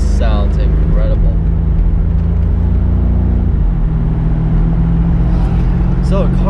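Loud, sustained engine drone from a 2020 BMW M850i Convertible in Sport Plus mode, holding a steady pitch before dropping noticeably midway, with a person speaking over it.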